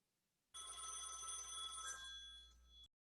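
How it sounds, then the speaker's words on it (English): A telephone rings on an online group call, a bright sustained electronic ringing burst that starts abruptly, holds steady for over two seconds, then cuts off, faint in level with no talk over it. "Someone's telephone's ringing"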